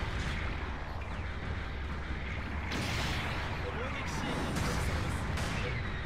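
Continuous heavy gunfire and explosive blasts in the mech combat game Gundam Battle Operation 2, a dense, loud, unbroken barrage with sharper bursts near the three-second mark and again past four seconds.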